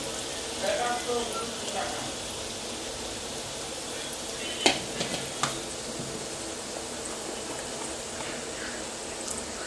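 Capsicum being stirred and fried in a pan for cauliflower manchurian, a steady low sizzle with a few soft utensil clicks, while people talk nearby.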